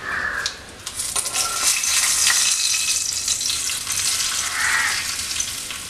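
Mustard seeds, dried chillies and curry leaves sizzle loudly in hot oil for a tempering poured into a tomato-cucumber curry, a steady crackling hiss with a few sharp pops and no talking.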